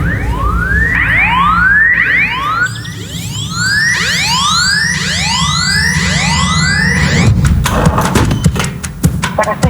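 A Danish ambulance siren sweeps up again and again in fast, loud rising wails. Rumbling traffic noise sits beneath it, and a few sharp thumps land near the end.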